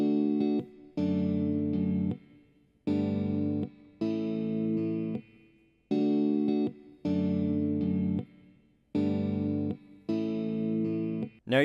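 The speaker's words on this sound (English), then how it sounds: "Both guitar parts sound like this right here." Two electric guitar parts in a song play the same chords in different positions, layered and slightly effected, sounding in steady repeating blocks with brief gaps, alone and without talk.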